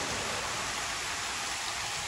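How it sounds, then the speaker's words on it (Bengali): Heavy rain pours down in a dense, even, continuous hiss that holds steady throughout and has no breaks, with no voices over it. "দেখুন কি পরিমাণে বৃষ্টি"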